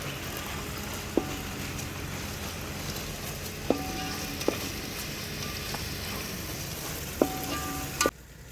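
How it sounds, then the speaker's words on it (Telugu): Ginger garlic paste fries in a pan for a mutton curry, a steady close sizzle with a few sharp metallic clinks from a spoon, and no talking. "అల్లం వెల్లుల్లి పేస్ట్ పచ్చి వాసన పోయే వరకు ఫ్రై చేసుకోవాలి."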